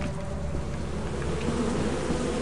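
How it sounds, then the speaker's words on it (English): Bees in Lethal Company give off a loud, constant buzzing drone, dense and close, heard alone with no one speaking. "I want you to distract the bees."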